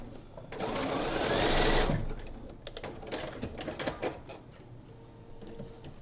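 A sewing machine chain-pieces an autumn-fabric quilt block, with a fast, dense run of stitching for about a second and a half, then lighter scattered clicks and handling noises close by.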